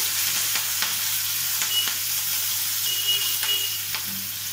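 Green chillies and onion sizzling in oil in a pan for cashew upma, a steady bright fry with scattered sharp crackles and pops and a few clinks of stirring, moderately loud and close, no talk.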